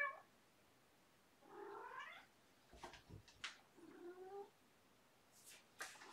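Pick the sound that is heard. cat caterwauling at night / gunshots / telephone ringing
cat caterwauling at night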